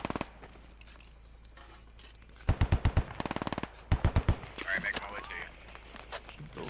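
Automatic gunfire rattles in the video game Squad on the Kohat Toi map, with quick rhythmic bursts of shots, one long string then a shorter one, among scattered quieter distant reports.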